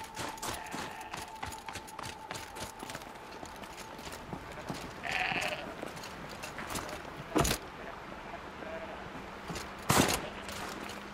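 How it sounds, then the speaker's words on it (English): Goats bleat in Horizon Zero Dawn: The Frozen Wilds, with a brief bleat rising amid steady clattering, hoof-like clopping and a few sharp bangs in the game world. "The goat are all at once really cute and also really weird."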